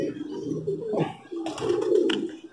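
A banded domestic pigeon coos close by, with two or three throaty rolling phrases and no talk over them.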